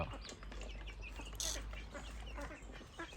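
Faint, high chirping and peeping from small chicks, scattered short calls against a quiet background.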